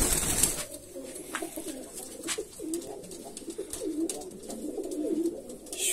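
Pigeons cooing inside a loft, several soft repeated low coos overlapping at close range with occasional wing and movement noises, no talk.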